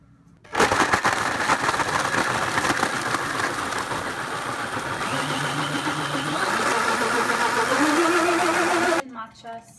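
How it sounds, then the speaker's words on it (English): A blender whirs loudly and steadily for about eight seconds as it blends a cold matcha green tea smoothie, its pitch rising and shifting near the end before it cuts off abruptly. "That's it. We're gonna blend."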